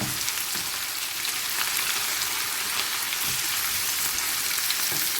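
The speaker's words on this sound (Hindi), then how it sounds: "और इसे अब हम भून रहे हैं, 1-2 मिनट तक इसको भूनेंगे।" Steady crackling sizzle of onions frying in a hot pan, even and continuous with soft pops throughout, no voices.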